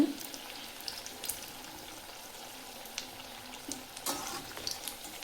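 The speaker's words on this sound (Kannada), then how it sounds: "ನೋಡಿ ಇವಾಗ ಇದು ಗೋಲ್ಡನ್ ಬ್ರೌನ್ ಬಂದಿದೆ ಡೀಪ್ ಫ್ರೈನೂ ಆಗಿದೆ" Green chili bajji fritters deep frying in hot oil, giving a steady soft sizzle and bubbling with a few brighter crackles and scraping stirs, heard close with no talking.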